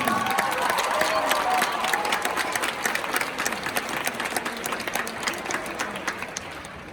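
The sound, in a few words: applause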